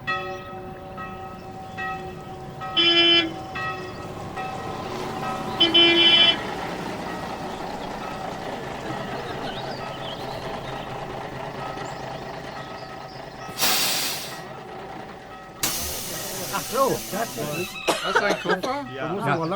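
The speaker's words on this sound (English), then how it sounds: "they're making some sound recordings just as a big touring coach arrives" A big touring coach arrives amid street noise, with several bursts of reversing beeps and two sharp hissing releases of air brakes; voices talk throughout.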